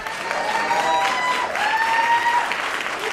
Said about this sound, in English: I'd like to hear a round of applause.